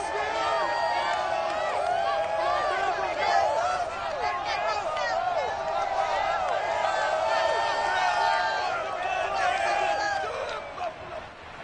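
A stadium crowd in Orchard Park, New York, roars and cheers for the Bills in an EA Sports NFL video game, a loud, continuous wash of voices with whistles and shouts that fades slightly at the end.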